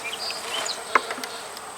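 Honeybees buzzing around a split hive, a steady close hum with a few brief louder wingbeat passes, alone without voices.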